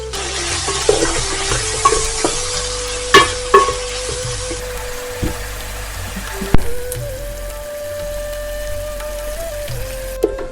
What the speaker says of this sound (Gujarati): બે મીડિયમ સાઈઝ ઓનિયન એને આપણે નાની નાની કાપી લીધી છે એને સાંતળી લઈએ